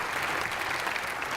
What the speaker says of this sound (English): We could have a round of applause for them as well.